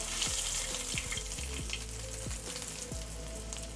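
Potato cutlets frying in hot oil give off a steady, dense crackling sizzle that holds evenly throughout, close and loud with no voices.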